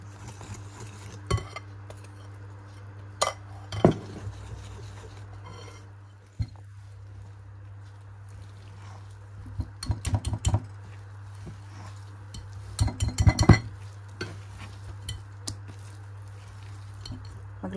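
Apple snack batter mixed with wheat flour in a bowl, scattered spoon clinks and scrapes against the bowl with soft squishy stirring, over a steady low hum, busiest near the end.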